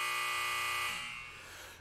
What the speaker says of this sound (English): what a buzzer, what a buzzer